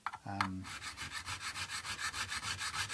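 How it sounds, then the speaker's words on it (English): Sandpaper rubbed back and forth across the frets of a Stratocaster copy guitar, a quick regular run of close, rasping strokes after a brief knock. "to polish them using a variety of grades of sandpaper"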